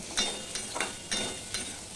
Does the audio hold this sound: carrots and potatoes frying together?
yes